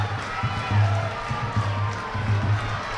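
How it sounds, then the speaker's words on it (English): A large crowd roars and cheers in a broad, steady wash at a schools rugby league match between Wesley College and Isipathana College, with a commentator talking over it throughout. "The crowd gets going."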